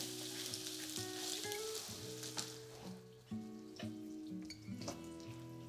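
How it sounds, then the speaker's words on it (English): Vegetables sizzle and crackle in a hot frying pan, a steady close hiss broken by stirring clicks and a few bumps, with no talking. "I'm gonna fry all this vegetables like this."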